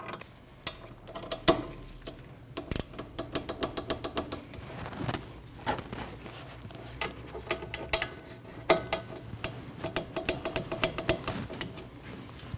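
Torque wrench tightening two bolts on the rear brake of a 2003-2008 Subaru Forester, ratchety mechanical clicks and taps coming in irregular close bursts through the clip with no talking.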